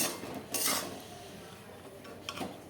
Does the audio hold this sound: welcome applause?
no